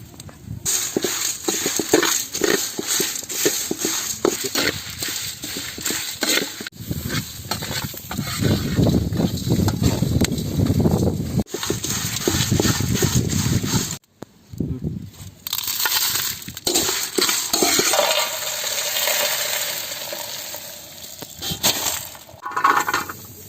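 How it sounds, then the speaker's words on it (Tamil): Whole spices including crushed pepper are dry-roasted in a pan for Chettinad chicken curry, giving a busy, close clatter and scraping of seeds and spoon against metal with sizzling stretches and a brief pause midway. "இப்போ நம்ம வந்து போட்டு வறுத்து எடுத்துக்கலாம் எல்லாத்தையும்"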